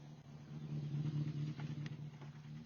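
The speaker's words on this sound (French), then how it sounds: "On va accueillir bien la 205 GTI du numéro 35 avec Lucas Guyot associé à Thomas Van Bustel" A Peugeot 205 GTI rally car rumbles in at a stage finish, its engine giving a low, steady drone that swells slightly and stays fairly faint and distant.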